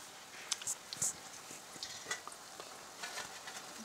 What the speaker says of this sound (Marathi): या प्रकारे तळून घ्यायचे आहेत